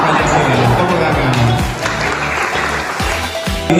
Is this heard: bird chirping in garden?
no